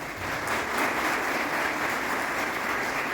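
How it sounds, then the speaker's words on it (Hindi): An audience at an Indian Army motivational counseling event for students bursts into steady, loud applause that holds evenly throughout without any speech. "इनके लिए एक जोरदार तालियां"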